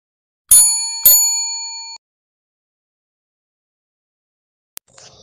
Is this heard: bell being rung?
yes